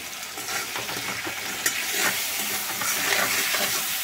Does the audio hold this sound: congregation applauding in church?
no